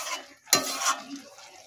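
A spoon stirs Malabar spinach stems and lote fish curry in a pan, giving a short scraping stroke with light sizzling and a soft clink, close up and alone.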